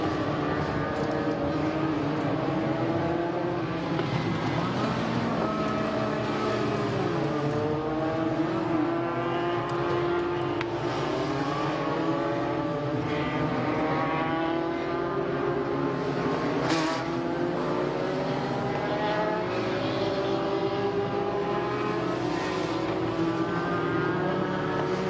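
Several race cars circle the Midvale Speedway oval at the 2022 Fall Classic during a caution, their engines droning in a steady layered roar that rises and falls as cars pass, continuous throughout.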